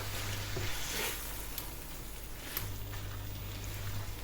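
Pad thai style konjac noodles being stirred in a pan, a soft sizzle with a few scraping strokes of the utensil, fairly quiet and close, with no voices.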